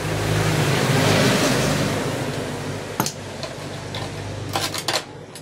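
Rain falls steadily on an outdoor air-conditioner compressor job. A broad, close hiss gradually eases off, and a few sharp metallic knocks come near the end.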